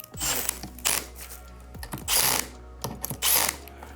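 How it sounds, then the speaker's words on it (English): Power driver tightening a bolt on an office chair at low torque, several short whirring bursts separated by pauses, close and fairly loud, with no talking. "And then tighten it down."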